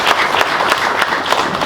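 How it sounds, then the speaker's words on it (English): Audience applause at an awards ceremony, a dense and loud spell of clapping that holds steady throughout the short stretch. "We can give him a round of applause, please."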